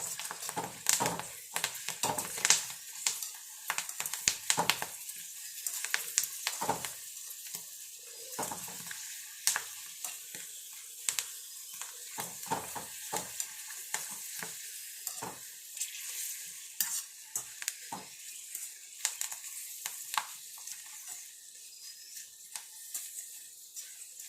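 Pappadam frying in hot oil in a home kitchen pan: a steady, busy crackle and sizzle with dense popping bursts that run throughout at close range, with no talking.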